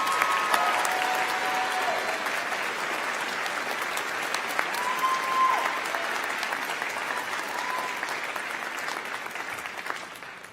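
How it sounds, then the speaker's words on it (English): Sustained applause from a commencement audience at a university College of Professional Studies graduation ceremony, honoring student speakers; steady dense clapping fills the hall throughout, with faint murmurs of voices underneath. "Let's have another round of applause for both of our student speakers."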